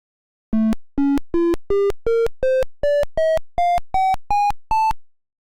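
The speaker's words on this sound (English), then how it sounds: "if we click on all the tones in order, we can hear the varying tones we've created" Eleven short synthesized tile tones from a Simon memory video game built in Unity, sounding one after another at a steady rhythm, each step rising slightly in pitch, clean and loud with no other sound.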